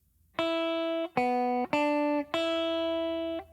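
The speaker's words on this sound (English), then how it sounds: "The next part of this little gospel quartet riff will repeat the first little lick, which sounds like this." Electric guitar playing a short gospel quartet riff lick: four clean sustained notes and double stops in sequence, slightly bending between them, close and clear with no talking.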